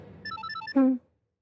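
A phone ringtone chimes late at night in a domestic scene from a Hindi TV serial, a short melodic run of electronic tones ending in one louder sustained note, then silence.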